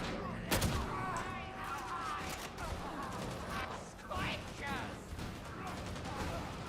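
Shotgun fire in Warhammer 40,000: Darktide, a sharp loud blast near the start followed by a dense clatter of combat noise and game effects, with a voice talking over it.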